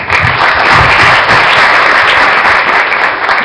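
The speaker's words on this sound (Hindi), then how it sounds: "ताली बजा दो।" A crowd claps loudly and continuously at a Govardhan Puja temple gathering, a thick, even burst of applause close at hand with a few faint voices underneath.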